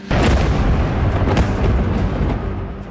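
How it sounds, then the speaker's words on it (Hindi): Heavy blasts from Israeli drone strikes over Beirut roll out as one sustained, loud booming rumble with several overlapping impacts, close and dense, with no voices over it. "बेरूत में इजरायली ड्रोन के सीरियल धमाके"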